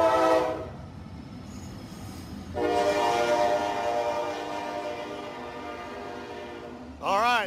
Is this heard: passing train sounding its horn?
yes